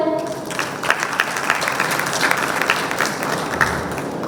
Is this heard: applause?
yes